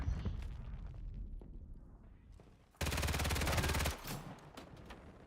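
Gunfire during a Call of Duty League championship match: a continuous automatic burst of about a second stands out loudly, with scattered fainter shots and game noise around it.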